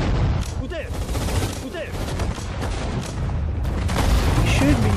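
Gunfire hits tanks in the World War II strategy game Sudden Strike 4, with repeated bursts and booming shots over a dense battle din while someone talks over it.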